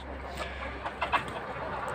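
Several soft clucks from chickens with a rooster, scattered and faint, over a steady low background hum inside a coop.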